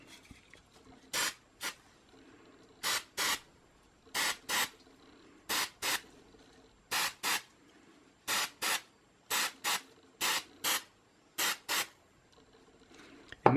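Spray adhesive hisses from an aerosol can onto fabric over a 3D print in short paired bursts, about a dozen sharp bright blasts with quiet gaps between, close to the microphone.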